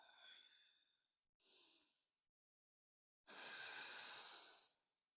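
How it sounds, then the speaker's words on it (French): Ujjayi breathing held in downward dog during a beginner morning vinyasa yoga session: three slow, hissing throat-constricted breaths, a soft one, a short one, then a long, loud exhale after a pause, close and alone with no talking. "On reste ici 2 cycles de respiration Ujjayi."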